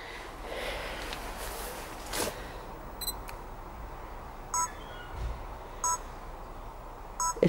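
A handheld device set to a green light mode gives short electronic beeps in timer mode, sounding singly and in pairs at irregular intervals over faint outdoor woodland ambience.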